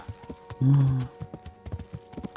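Horse hooves clip-clop at a steady walking rhythm in the medieval video game Kingdom Come: Deliverance, close and clear, with a brief whinny breaking in near the start.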